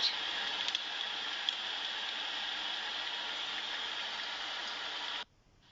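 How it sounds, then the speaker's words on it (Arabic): Chopped onion frying in a pan gives a steady, bright sizzle that holds evenly for several seconds before cutting off abruptly. "المهم بس يتحمر البصل، يعني تحميرة بسيطة. أضيف له الشبنت"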